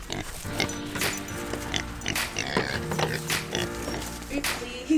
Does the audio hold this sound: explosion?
no